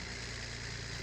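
A tractor engine idles steadily while driving in Farming Simulator 25, a continuous low, even rumble with no breaks, heard on its own.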